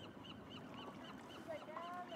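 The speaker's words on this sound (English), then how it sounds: "You hear the birds?" Birds call at Dana Point Harbor, faint goose-like honks and squawks repeating over soft ambient water and wind noise, with a couple of higher calls near the end.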